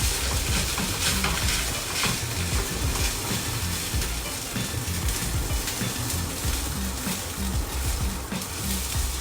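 Chicken rice porridge being stirred in a pot for Cambodian-style congee, a steady scraping and swishing with soft bubbling sizzle underneath, continuous and close for the whole stretch with no talking.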